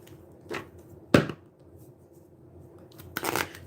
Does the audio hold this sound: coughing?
no